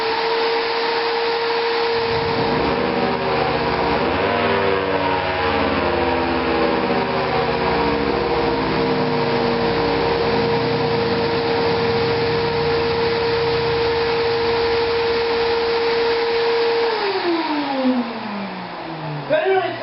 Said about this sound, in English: let's go ahead and give the shop vac a try here